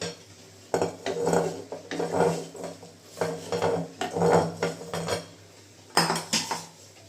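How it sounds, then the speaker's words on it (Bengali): Dishes clatter and scrape in bursts as paneer pieces are moved into a bowl, with utensils clinking against the dish several times, close by, no talking. "টুকরো করা সমস্ত পনিরগুলো এখন আমি সব বাটিতে তুলে নেব"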